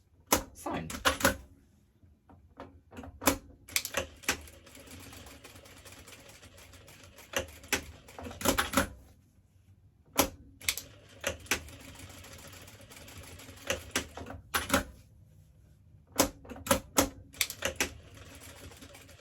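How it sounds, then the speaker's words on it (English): Sewing machine stitching in the ditch along the seams of small scrappy log cabin mug coasters, running in close, loud bursts of rapid needle clatter separated by short pauses. "it's quite fun to stitch in the ditch in such small areas that you've just sewn."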